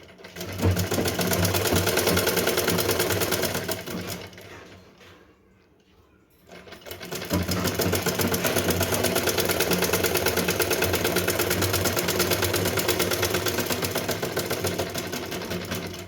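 A domestic sewing machine runs in a steady, loud whirring drone while stitching a small choli for a Laddu Gopal doll's Janmashtami dress, pausing briefly in the middle before resuming at the same even pace.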